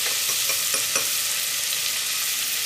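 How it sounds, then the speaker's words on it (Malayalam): Onions fry in oil in a pan toward golden brown, a loud, steady sizzle close by with a few light stirring scrapes early on. "ആ സവാള എണ്ണയിൽ കിടന്ന് നന്നായിട്ട് മുരിയണം, നല്ല ഗോൾഡൻ കളർ ആവണം"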